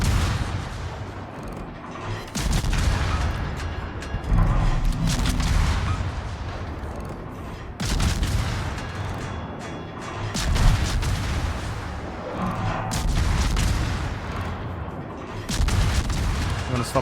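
Heavy naval guns booming in World of Warships, the Ragnar destroyer firing from smoke in a series of loud, rolling volleys that recur every few seconds over a constant battle rumble.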